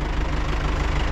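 Farm tractor engine running steadily during sunflower hoeing, a loud, continuous low rumble with a slight knocking pulse throughout and no voices.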